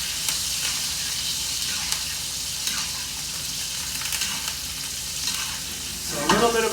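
Strip steaks sizzling loudly in a hot pan as they are basted with seasoned oil, a steady close frying hiss with spattering crackle throughout.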